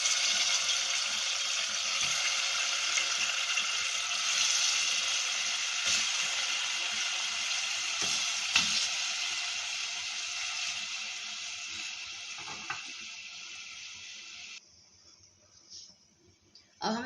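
Chicken pieces frying in half a cup of hot ghee for degi korma give a steady, loud broadband sizzle that runs on for about fifteen seconds, then drops away to quieter clatter near the end.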